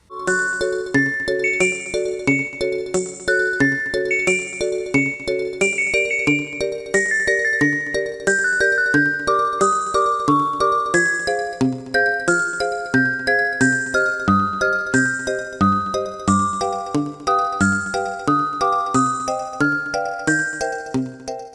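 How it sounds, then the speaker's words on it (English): Tinkling sleigh bells jingle steadily over a slow, melancholy melody of chiming notes in Banjo-Kazooie video game music, continuous and fairly loud with no voices. "never in my life have I heard more sorrowful sleigh bells"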